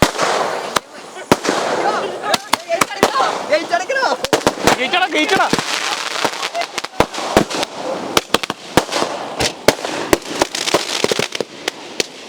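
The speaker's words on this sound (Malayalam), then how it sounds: "നമ്മൾ തിരി കൊടുക്കാൻ പോവാണ് നമ്മളുടെ ആകാശ വെടിക്ക്" Aerial firework shells set off for Diwali burst in rapid sharp cracks, many loud pops overhead in an irregular barrage, with voices talking underneath.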